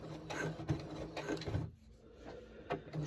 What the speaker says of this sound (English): I'm going to go further up and do a back stitch.